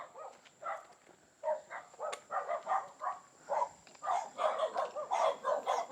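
A pack of five to seven dogs on a mountain farm keeps up a run of sharp, repeated barks at moderate distance, overlapping in irregular bursts.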